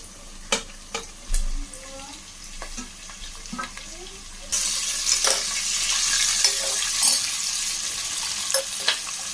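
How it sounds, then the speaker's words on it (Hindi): Mixed vegetables fried in oil for veg biryani: a few scattered clinks and stirs, then a loud, dense sizzle bursts in midway and carries on steadily, close and without voices. "और अच्छी तरीके से हम इन्हें अब ऑयल में ही थोड़ा सा फ्राई कर लेंगे।"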